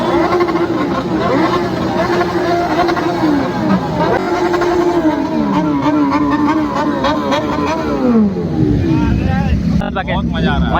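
A motorcycle engine at a moto fest in Jharkhand revs loudly and up close, climbing and falling in repeated throttle blips over a steady idle, with crowd chatter and voices in the background.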